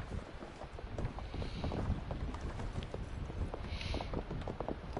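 Steady clip-clop of a horse's hooves at a quick pace in Assassin's Creed Valhalla, with constant wind-like noise underneath and no speech.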